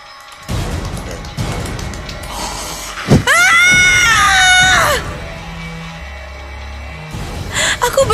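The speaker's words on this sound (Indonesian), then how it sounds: "Aku berteriak sekuat tenaga" A person screams loudly in a horror audio drama, a sharp gasp followed by a long, piercing wavering shriek lasting a couple of seconds, set among other tense noises and a low rumble.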